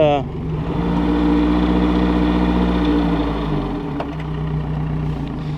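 A repaired Yamaha outboard engine, fixed after a bad oil pump and run on a hose, drones loudly and steadily, its pitch rising and holding as it revs, then dipping briefly before settling back to a steady run.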